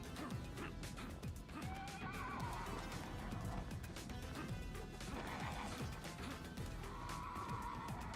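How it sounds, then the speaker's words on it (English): Horses neighing and whinnying in the video game Shinobi: Art of Vengeance, several loud whinnies over a busy backdrop of clattering hooves and thumping action sounds. "Damn horses."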